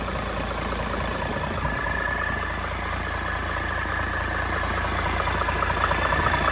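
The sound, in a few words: Cummins L375 diesel engine running smoothly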